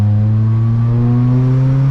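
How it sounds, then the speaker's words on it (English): A race car in a sand pit: a steady engine drone holds a constant low pitch, loud and close, then cuts off abruptly at the end. "if you saw the dude that was in the sand pit, that was him in the Burson car"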